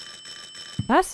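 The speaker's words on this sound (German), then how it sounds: "Jemand klingelt an der Tür." A doorbell rings inside the house in Silent Hill 4: The Room, a short bright electronic chime that rises in pitch, heard once after a quiet stretch. A voice speaks briefly just before it.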